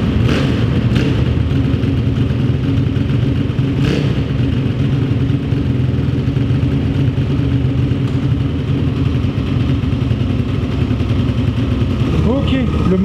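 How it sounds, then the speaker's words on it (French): A YCF Daytona 190 pit bike with a warmed-up engine idles steadily and close by, a continuous low throbbing that holds evenly for the whole stretch, with brief faint blips and some background voice. "Le moteur est bien chaud, donc voilà le ralenti."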